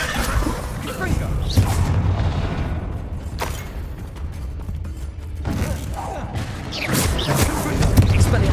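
Repeated Confringo fire-blast spells in the Hogwarts Legacy video game burst out amid dense combat noise, with booming impacts and crashes rolling through a busy, continuous battle mix.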